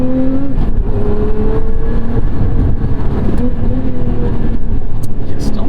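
A Lotus car engine revs up and down during heel-toe downshifts, with blips and engine roar loud and close throughout, heard from inside the car.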